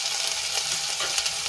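Ginger, garlic and chilli paste fries in hot oil, giving a steady, close crackling sizzle with light stirring scrapes throughout and no voices.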